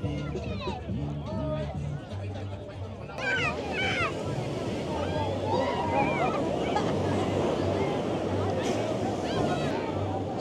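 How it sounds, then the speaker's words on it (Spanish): Strong surf breaking at Sosúa beach in the Dominican Republic, a steady broad wash of waves with wind noise, mixed with background crowd chatter and nearby voices throughout. "Sigue el oleaje fuerte en Playa Sosúa"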